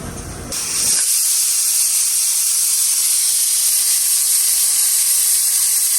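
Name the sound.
pressure cooker whistling and hissing steam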